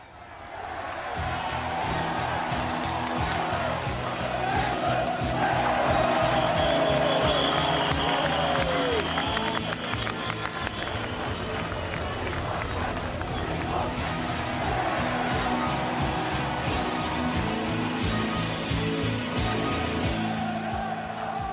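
Football stadium crowd in England roaring and singing for Paul Gascoigne, a dense, sustained mass of voices and cheers that stays loud and steady throughout, with a rising chant partway through.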